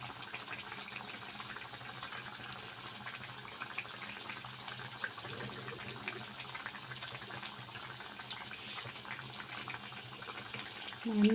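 Sweets fry on a low flame, giving a quiet, continuous bubbling hiss that stays steady with a few small pops and a faint clatter near the end.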